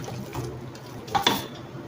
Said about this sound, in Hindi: अच्छे से इसको मिक्स कर देंगे।